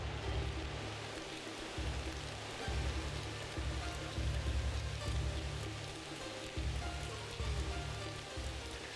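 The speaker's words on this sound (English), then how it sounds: "It's raining in here too?" Steady rain pours in the Shenmue 3 video game, a dense even hiss of drops on surfaces with a soft repeating low musical pulse beneath it.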